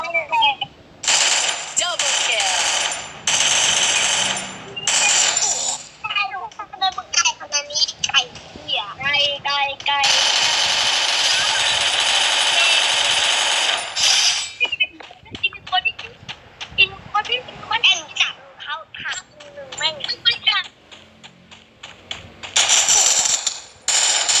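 Automatic gunfire in the video game Free Fire rattles in loud bursts amid game music and effects, while a player talks excitedly over much of it.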